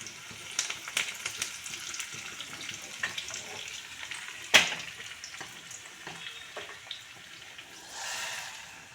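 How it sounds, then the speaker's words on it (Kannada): Garlic and curry leaves fry in hot oil after mustard seeds have popped, making a soft crackling sizzle with scattered pops, one sharp clink, and a brief rush of water near the end. "ಬೆಳ್ಳುಳ್ಳಿ ಹಾಕೋತಾ ಇದ್ದೀನಿ."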